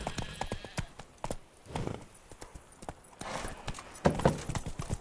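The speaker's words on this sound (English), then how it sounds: "Giddy up." Horse hooves clip-clop at a steady trot across the Witcher 3 game world, loud and near, with a brief whinny and small rustles between the strikes.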